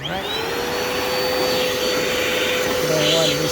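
A vacuum cleaner runs steadily and loudly around a BMW E90 during fuel pump and fuel regulator replacement, its constant whine continuous throughout with someone talking over it.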